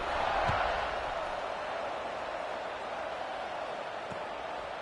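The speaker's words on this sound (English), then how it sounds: "this crowd is buzzing after that last score" A football stadium crowd keeps up a broad, steady roar after a score, loud and even for the whole stretch, with no clear individual voices standing out.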